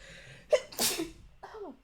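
A single loud sneeze with a sharp intake and burst, close by, followed by a short trailing vocal sound in a quiet room.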